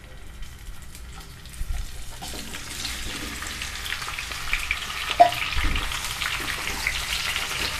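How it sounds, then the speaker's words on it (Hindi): Jackfruit pieces frying in mustard oil in a hot wok give a soft, steady sizzle that gradually rises, with occasional light clicks and knocks. "कटहल इधर भून रहा है"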